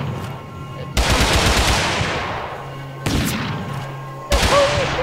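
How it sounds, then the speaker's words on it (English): Gunfire in the video game Totally Accurate Battlegrounds: three loud, sharp bursts of shots, each trailing off in a long echoing tail. "Wow, he's shooting me."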